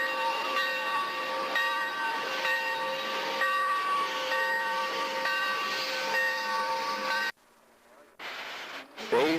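Steam locomotive 0-6-0 number 47 pulls out of a stall at the North Conway engine house, its steady hiss and rumble loud and continuous for several seconds before cutting away to brief quieter noise near the end.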